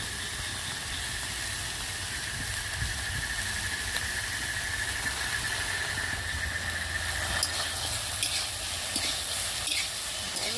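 Chunks of pumpkin, eggplant, potato and banana stem fry and get stirred in a hot pan, giving a continuous close sizzle with scattered scraping and clinks, louder toward the end; no voices.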